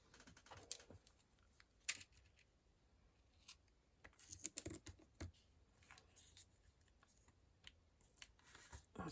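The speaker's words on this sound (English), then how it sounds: "I'll snip it over," Scissors snip through washi tape in a series of sharp, quiet cuts, with short clusters of crisp clicks and rustles spread across the stretch, close and alone without talk.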